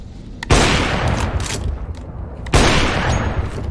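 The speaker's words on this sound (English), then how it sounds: "Flashbang." A flashbang grenade goes off in the video game CS:GO, a sharp loud burst at the start followed by another abrupt blast two seconds later, each trailing into a dense ringing, crackling wash.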